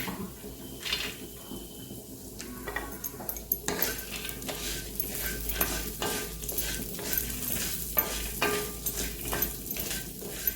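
Peanuts roasting in an iron griddle pan, stirred with a spatula: a steady dry sizzle with repeated scraping and clinking strokes against the metal, close and continuous for the whole stretch.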